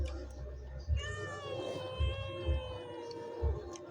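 A cat meows in a household, giving a drawn-out, wavering cry over a low background hum with a few soft thumps.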